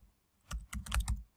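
A short burst of close keystrokes on a computer keyboard, about half a dozen quick clicks in under a second as a command is typed, with no voices.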